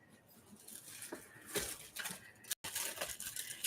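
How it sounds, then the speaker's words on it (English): Steady rain falls in Las Vegas, a soft continuous patter with scattered brighter drips and a brief dropout near the end, fairly quiet and with no voices. "It's raining steady."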